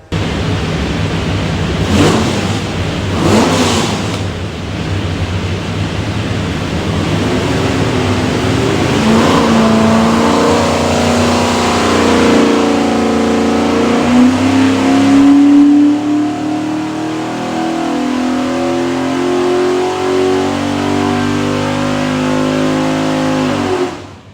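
A 427ci small block Ford V8 with Holley Terminator X fuel management, built for a Superformance Cobra, revs on a dyno. A couple of quick blips lead into a long, loud, steadily rising pull that holds near its peak before backing off.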